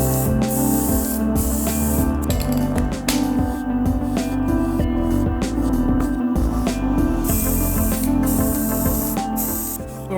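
Sealer is sprayed onto a gilded, patinated wood finish in one continuous, loud, close hiss with small fluttering breaks, running nearly unbroken throughout.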